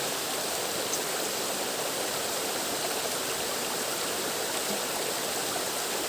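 Flowing stream water rushing in a constant, even wash of noise along an old trail, steady and unbroken throughout with no voices.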